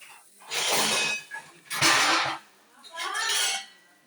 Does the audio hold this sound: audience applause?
no